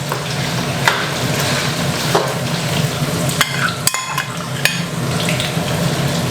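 Sliced pork belly fries in plenty of hot oil, giving a dense, continuous close sizzle and crackle with a few brief clinks of a utensil against the pan.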